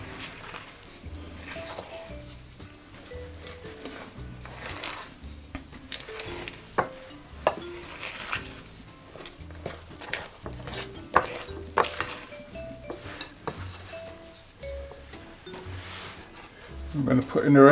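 Cookie dough is stirred lightly in a bowl for American bakery cookies, with soft scraping strokes and occasional sharper clinks of utensil against bowl, continuous and fairly close.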